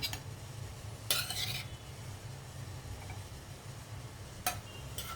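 Chilli chicken fry with capsicum being served onto a garnished plate: a few short scraping clinks of a utensil against the pan and plate, separated by pauses over a low background hum.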